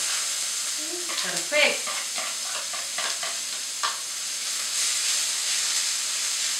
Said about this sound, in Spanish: Escuchen cómo está esa sartén de caliente.